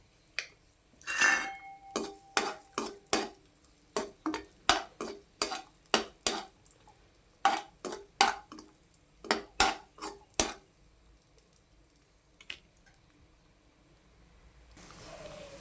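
Cashews and raisins frying in ghee in a pan, stirred with a spoon that scrapes and clinks against the metal in a run of about fifteen sharp strokes, then quiet bubbling as the stirring stops.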